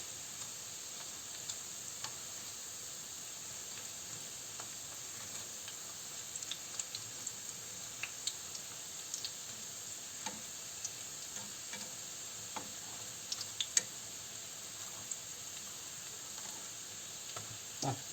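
Minced meat and potato patties frying gently over low heat in a pan, a soft continuous sizzle with scattered small pops and ticks, quiet and close, no voices.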